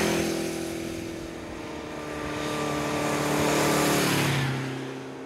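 A 1975 Honda CB750 Four, a 750cc four-cylinder motorcycle, runs with a smooth engine drone that swells and fades as it passes, rising to a louder peak before dropping away.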